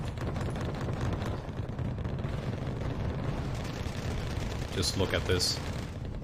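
Dense, rumbling cluster-bomb blasts from a wave of MiG-23BN jets in the real-time strategy game Wargame: Red Dragon, a continuous loud roar of overlapping explosions, with someone talking over it.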